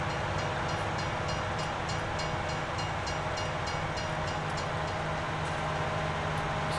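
A train in the Farming Simulator 19 video game rumbles steadily with a continuous rolling drone and faint rhythmic clicks throughout, with no talk over it.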